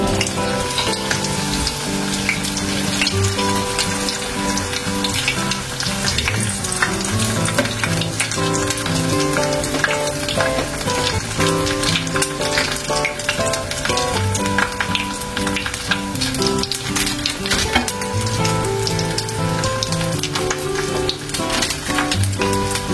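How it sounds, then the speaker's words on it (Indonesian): Mie goreng pangsit noodles fry in hot oil in a small pan or wan, giving a loud, continuous sizzle with crackling bursts and some stirring, and no voices. "Dan lanjut kita goreng teman-teman."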